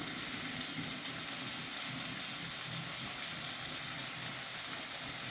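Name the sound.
raisins and dates frying in oil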